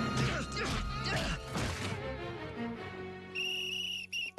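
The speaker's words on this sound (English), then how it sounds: "Is that the comeback and kick me whistle?" A short cartoon whistle toots near the end, a few bright sustained tones following a stretch of crashing, thudding slapstick commotion in an animated comedy.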